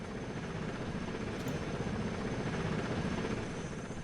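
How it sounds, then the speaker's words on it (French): A helicopter in the video game Delta Force 2 lifting off again, its steady rotor thump and engine whine holding loud and continuous throughout with no speech. "mon hélico à moi il redécolle et il refait un tour"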